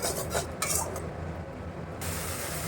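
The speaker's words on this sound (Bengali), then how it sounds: "এখানে একটু কাশ্মীরি লঙ্কার গুঁড়ো দেবো যাতে কালারটা সুন্দর আসে। খুব ভালো করে কষিয়ে নেবো।" Coconut prawn masala with Kashmiri chilli powder being stir-fried in a pan, close scraping and stirring strokes with light clatter of a utensil against the pan over a soft sizzle.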